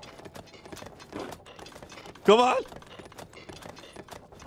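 A horse's hooves clip-clop at an even pace in the video game The Legend of Zelda: Tears of the Kingdom. The soft, rhythmic clopping runs under game sounds, and someone speaks briefly in the middle.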